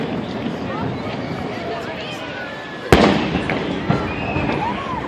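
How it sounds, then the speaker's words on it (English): Steady crowd noise and chatter at a July 4th celebration in Washington, D.C., then a sharp loud boom partway through, followed by another softer thud, distant fireworks over a murmuring crowd. "She wanted me to film the fireworks"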